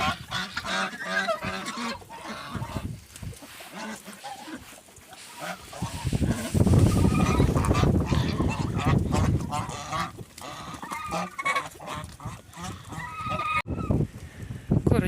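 A flock of turkeys eating wheat, gobbling and honking over gusty wind noise, calls overlapping irregularly throughout, fairly close and moderately loud.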